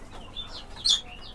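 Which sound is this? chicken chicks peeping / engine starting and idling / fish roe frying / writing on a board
chicken chicks peeping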